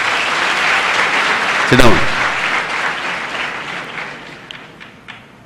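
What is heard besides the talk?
audience applauding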